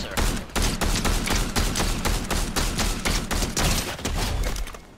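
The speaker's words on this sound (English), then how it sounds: "I just hit her with a silenced pistol" Silenced pistol shots in Fortnite: a rapid, dense burst of sharp repeated reports, loud and close, running almost without pause for several seconds before thinning out.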